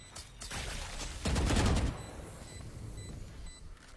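Gunfire rattles in a competitive first-person shooter match. A loud, dense burst of rapid shots lasts under a second and is surrounded by fainter scattered firing and game ambience.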